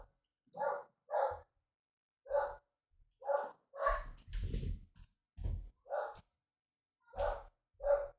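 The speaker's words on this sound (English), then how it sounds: "my dog is going crazy" A dog barks excitedly indoors, with about a dozen sharp, separate barks in uneven bursts and a brief scuffle or whine partway through, loud and close with silence between.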